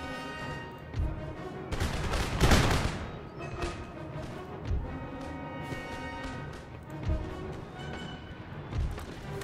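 Musket volleys in an Empire: Total War battle with Bavarian forces, militia and buccaneers, heard as scattered and massed gunfire crackles and booms, with a dense loud burst near the middle over a continuous battlefield din.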